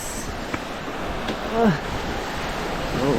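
Continuous low wash of surf and wind fills the background, with a voice speaking briefly over it near the end.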